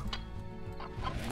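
A hen in the video game Slime Rancher gives a short burst of clucking, close and fairly faint, with no voices.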